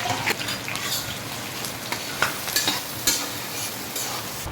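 Onion and green chilli fry in a pan, a steady soft sizzle with scattered scraping stir strokes and small crackles throughout, close and fairly quiet with no voices.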